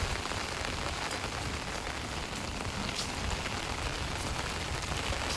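Heavy rain pours down in a Gujarat village, a loud, dense, unbroken roar of drops striking surfaces that carries on steadily throughout.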